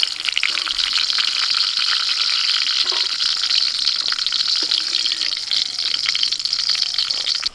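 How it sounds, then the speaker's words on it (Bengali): Cashews and raisins fry in hot oil with a loud, continuous, crackling sizzle that stays even from start to finish, close by and with no talk over it. "এখন কাজু কিশমিশ একটু ভেজে নেব।"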